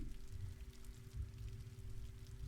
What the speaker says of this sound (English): His mind was wandered as he listened to the sound of the raindrops.